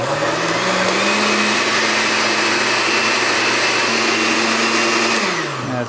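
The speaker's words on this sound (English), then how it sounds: "Then I'm going to put 12 cloves of garlic and half a teaspoon of salt and pulverize it." A blender whirs loud and steady as it pulverizes a dozen garlic cloves with salt, the motor pitch holding level and dipping briefly near the end before spinning down.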